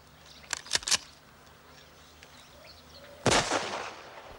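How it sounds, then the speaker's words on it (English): A rifle shot is fired as a warning over people's heads, one sharp close crack followed by a rolling echo, preceded by a few fainter quick pops in a quiet outdoor scene. "Fraser, fire a shot over their heads."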